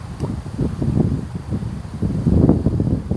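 Wind gusts buffet the microphone on a fishing outing in South Korea, producing a rough, rumbling roar that swells and eases over a few seconds with no clear speech.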